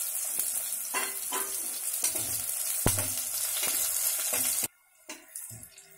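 Onions and garlic frying in a pan for a spring onion and dry fish curry, giving a loud, steady hiss with occasional clinks and scrapes of stirring, then the sizzle suddenly drops away near the end.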